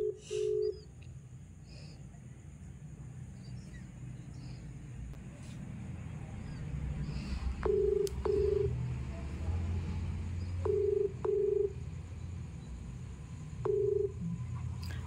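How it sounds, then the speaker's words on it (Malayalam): A telephone dialing a number, with several short, clean beeping tones spaced apart over a low rumbling background hum. "ഓക്കെ, നമ്പറിൽ കോൾ ചെയ്യാം."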